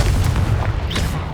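A single Confringo fire-spell explosion from Hogwarts Legacy lands as a loud, deep boom, followed by a brief crackling burst and a rumbling tail.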